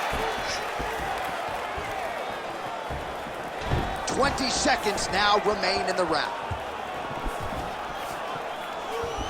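Crowd in a PS5 UFC video game arena reacting to a landed punch in a Choi Doo-ho vs Conor McGregor fight, a swelling roar and cheer rising over steady arena noise while a commentator talks throughout.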